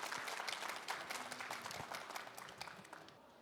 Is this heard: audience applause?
yes